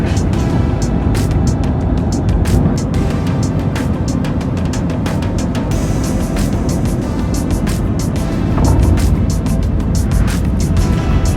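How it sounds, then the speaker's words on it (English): An EasyJet airliner touching down on the runway at Gatwick at night with heavy reverse thrust, a loud, continuous broadband engine roar that fills the cabin throughout. "A lovely smooth touchdown and a liberal use of reverse thrust"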